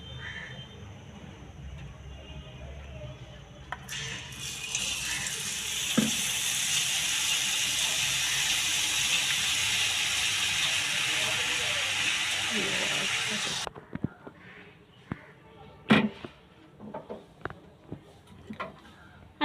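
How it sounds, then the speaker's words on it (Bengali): Laddu batter dribbled through a tea strainer into hot oil, setting off a loud, steady frying hiss that lasts several seconds and then cuts out, followed by scattered clinks and scrapes nearby. "এই ছাঁকনিটা দিয়েই এইবারে আমি কিন্তু এর মধ্যে ব্যাটারটা আস্তে আস্তে ঢেলে দেবো"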